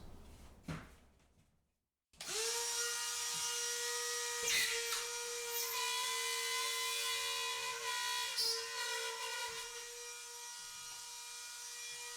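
Ryobi Rotozip spiral saw cutting drywall freehand, a sharp click then a loud steady high-pitched whine with grinding rasp as the bit moves through the board, close up.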